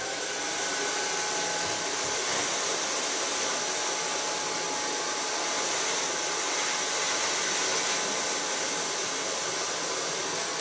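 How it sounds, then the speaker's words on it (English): A hair dryer blows steadily while drying the lengths of an asymmetrical bob, a constant close whooshing roar with no pauses and no talk. "start blow drying in the length, of course,"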